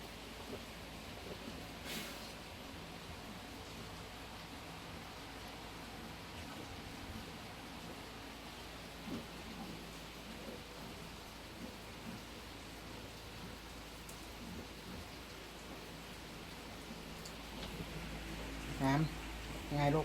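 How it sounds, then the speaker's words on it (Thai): Rain falls outside a house during a downpour, a faint, steady hiss of drops on surfaces that runs throughout, with a few brief knocks near the end. "ก็ฝนตกนะครับ"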